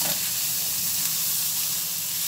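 Green bell peppers and hot chili frying in a pan for Alexandrian-style liver, a steady bright hissing sizzle that runs continuously and close up, with no talk.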